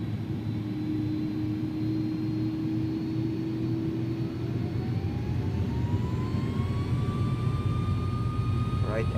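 Airbus A300 jet engines spooling up for takeoff in X-Plane 11, a rising whine climbing steadily in pitch over a loud broadband engine roar, with a person talking over it.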